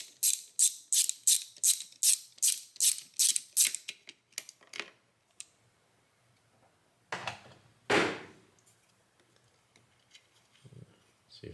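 A hand ratchet removes a nut on a 1989 Mercedes-Benz 560SEL during fuel system removal, clicking in a quick rhythmic series of about ten strokes, then a few scattered clicks and clunks of parts being moved.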